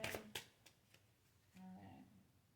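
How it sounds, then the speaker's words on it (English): Tarot cards are shuffled by hand in a few quick riffling bursts near the start, followed by quieter handling; close and soft, with brief low humming or voice toward the end. "And the last shuffle for the feminine."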